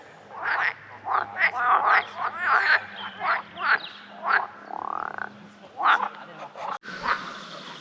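Frogs croak in a pond during mating season, a loud chorus of repeated rasping calls in quick irregular bursts, with a steady low hum underneath and a brief knock near the end.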